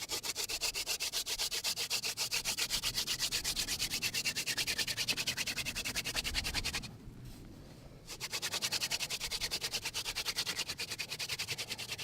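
A wooden spindle is spun hard into a board for a primitive friction fire using the two-hole method, producing a rapid, continuous rhythmic scraping grind up close, with a brief pause near the middle before it resumes, no talk.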